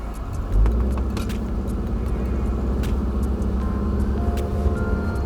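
A Wuling car reversing quickly up an incline after an engine overhaul, heard close up as a steady engine drone and road rumble with faint rattles and clicks, with no talk.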